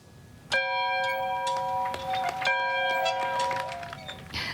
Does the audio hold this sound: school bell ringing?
yes